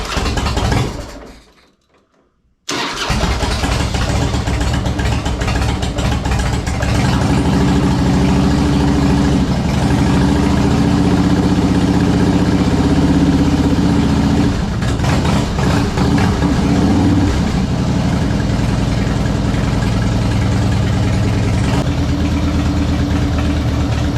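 A 2001 Harley-Davidson Springer motorcycle with carburetor fuel problems cranks and fires after a brief silence, then settles into a loud, steady, lumpy idle that runs close-up and uninterrupted to the end.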